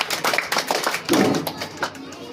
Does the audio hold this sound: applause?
yes